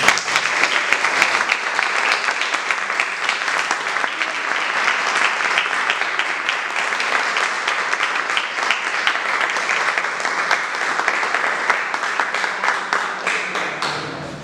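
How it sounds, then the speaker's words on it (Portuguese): Sustained applause from an audience at a theatre conversation event, a steady dense wash of clapping that holds for the whole stretch and thins slightly at the end. "eu queria pedir uma salva de palmas para essa"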